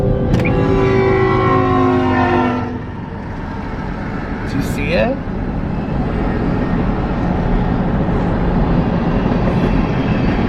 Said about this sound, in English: I love the sound of the train.